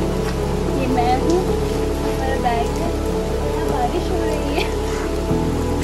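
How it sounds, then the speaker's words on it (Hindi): Rain falls steadily in a green hillside setting near a temple at Chakrata, a continuous close hiss of drops on surfaces with a low background hum underneath. "बारिश हो रहा है"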